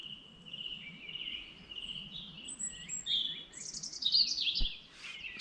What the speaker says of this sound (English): Just the sound of the birds